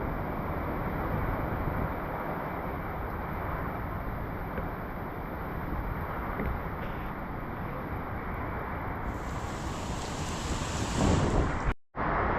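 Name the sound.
typhoon floodwater and wind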